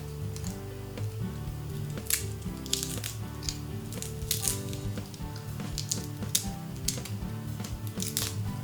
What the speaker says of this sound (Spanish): Ahora vamos a machacar los ajos.